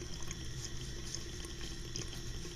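Tap water runs steadily into a sink while a silver coin is rinsed under the stream, a close, even splashing hiss with no one speaking.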